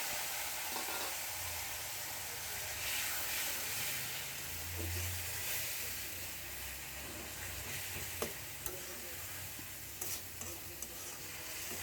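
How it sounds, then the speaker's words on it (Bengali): Tender greens tossed into a pan of onion and garlic fried until red, sizzling steadily with occasional stirring clicks and scrapes, moderately quiet and with no voices. "এখন শাকটা বাগার দিয়ে দেবো।"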